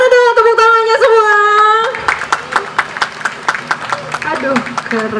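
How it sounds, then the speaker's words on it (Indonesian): Scattered clapping from a live audience at a Sundanese puppet-comedy stage show, following a short stretch of talk. Sharp, uneven claps sound fairly close for about three seconds, with a voice briefly heard underneath. "Mana dong tepuk tangannya semua?"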